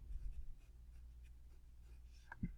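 Pen or marker writing by hand while working a multi-step equation, faint soft scratching strokes close up, ending in one slightly louder tap, with no talking.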